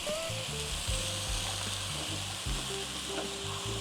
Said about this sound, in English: saute for about 2 to 3 minutes until all the vegetables are softened